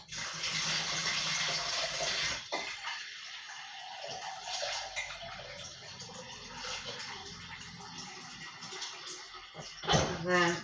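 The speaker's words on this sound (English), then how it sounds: "I'm just going to add some warm water from the sink" Warm water pours from a sink tap into a container, a steady hiss and splash that continues softly beneath a voice and ends in a brief gurgle.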